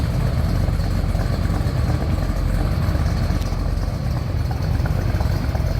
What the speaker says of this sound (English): Slip around back so you can hear this car run.